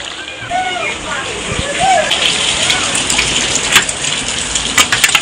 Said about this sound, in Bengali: আর জানো খুব জোর বৃষ্টি এসেছে